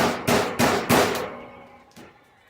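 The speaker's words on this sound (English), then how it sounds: "I really don't have a need for it in my personal life, so we're going to use Christina's hammer" A regular claw hammer, standing in for a rubber mallet, taps while a plastic traditional quail cage is assembled: three sharp, loud strikes in quick succession, then a softer fourth hit after a pause.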